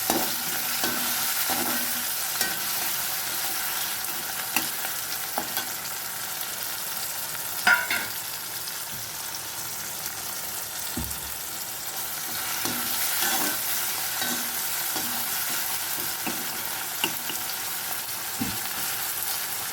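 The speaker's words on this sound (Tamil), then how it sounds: "இது வதங்க கொஞ்சமாக சால்ட்டு போட்டுக்கோங்க அப்போ தான் சீக்கிரமாக காய் வதங்கும்" Tomatoes with a pinch of salt sauté in a pan for a brinjal and raw mango kuzhambu, giving a steady close sizzle with frequent scraping stir strokes throughout.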